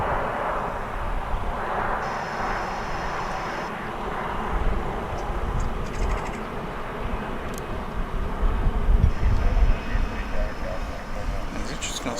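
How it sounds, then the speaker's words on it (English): Airbus A319 airliner at Dallas/Fort Worth airport, a steady broad jet engine rumble from a moderate distance that swells louder near the end, with voices talking over it. "This one's going to Salt Lake City. It's flight 2444,"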